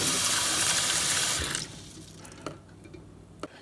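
Tap water runs steadily and loudly into a container holding eggs, then cuts off, leaving a quiet room with a couple of soft knocks.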